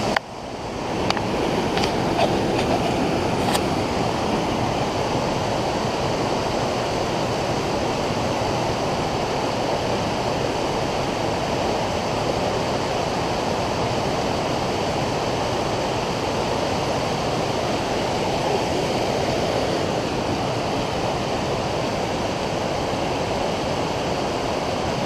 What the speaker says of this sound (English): And this waterfall goes all the way down into Bishop, down to Lone Pines